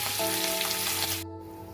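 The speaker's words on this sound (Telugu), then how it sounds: "తాలింపు వేగిపోయిందండి" Steady, loud sizzling of curry leaves and turmeric tempering in hot oil for carrot-coriander chutney, a continuous crackling hiss with a low hum beneath, cutting off abruptly near the end.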